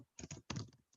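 A computer keyboard clatters in a brief quick run of keystrokes, a few clustered taps close to the microphone with short pauses between them.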